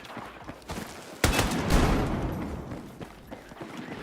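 Video game gunfire: scattered muffled shots, then one loud sharp blast that rolls into a sustained roar and fades into continued distant popping.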